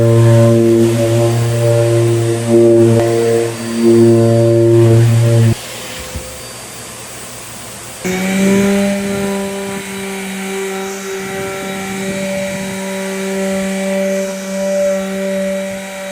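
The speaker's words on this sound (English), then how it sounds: "So I'm gonna start sanding with a 80 grit." A power sander works wood with 80 grit sandpaper for a custom built-in, a loud steady whine with strong motor hum that drops briefly to a softer tone before picking back up with rougher abrasive grinding.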